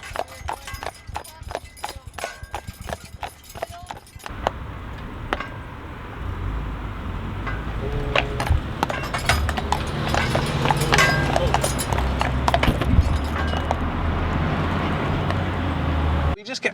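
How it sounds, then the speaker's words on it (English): Steady clip-clop of horse hooves on a hard road, a regular rhythm close by, with traffic rumble and some voices in the background. "we love hearing the horses coming down the road"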